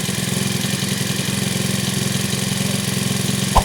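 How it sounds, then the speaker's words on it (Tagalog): A grass cutter's small engine idles while warming up, a close, steady, even rumble with a regular pulsing beat and one brief louder knock near the end. "Pinainit ko nga lang muna si cutter para mas mabangis tumabas mamaya."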